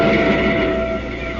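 A train sound effect in a 1949 radio drama: a steady rumble of a train in motion, with a sustained tonal hum and rolling mechanical noise, fairly loud and continuous throughout.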